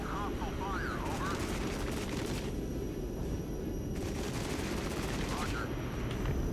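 Continuous bursts of gunfire crackle through a dense battle din in the war game Regiments, loud and close, with aircraft droning beneath and voices breaking in.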